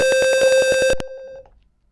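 A steady electronic piezo buzzer tone from an Arduino circuit simulation pulses rapidly in even bursts, then holds briefly and cuts off, leaving near silence.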